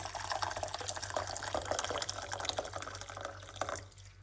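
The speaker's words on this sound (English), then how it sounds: "1 large cups of water, hot water from my kettle" Hot water pours steadily from a kettle into a large cup for tea, a continuous close splashing gush that eases off toward the end, with no talking.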